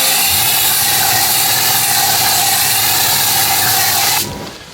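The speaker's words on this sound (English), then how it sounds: "I'm going to put another layer of snow foam" Snow foam sprays steadily onto a car wheel, getting behind the spokes, as a loud continuous hiss with a low pump drone under it that stops abruptly near the end.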